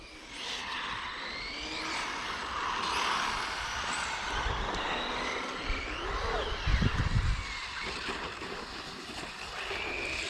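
Small RC car with a 3500kv brushless motor on a 3S battery, throttled hard on icy ground, a buzzing motor whine rising in pitch over steady outdoor noise with a brief louder low burst midway.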